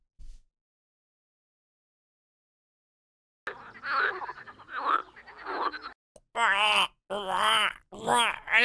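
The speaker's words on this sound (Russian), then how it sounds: "Звуки жабы." After several seconds of silence, a toad lets out a string of drawn-out, wavering croaks, close and fairly loud, with short pauses between them.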